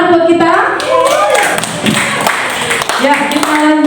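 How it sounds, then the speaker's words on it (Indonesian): Hands clapping together in a classroom-style gathering of teachers, a brief burst of close, uneven claps with voices talking and calling out over them throughout. "Tepuk tangan buat kita"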